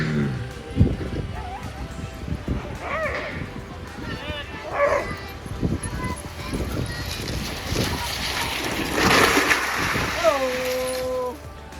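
Puppies yip and bark in short bursts at a train station gate in Alaska, mixed with whimpers, while people talk and greet them over a steady background hum.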